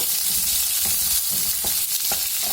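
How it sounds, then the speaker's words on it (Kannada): A large onion frying with Guntur red chillies in a pan for a bottle gourd chutney, giving a steady close sizzle broken by several soft stirring scrapes, with no talking. "ಒಂದು ದೊಡ್ಡದು ಈರುಳ್ಳಿ, ಎಲ್ಲ ಚೆನ್ನಾಗಿ ಫ್ರೈ ಮಾಡಬೇಕು"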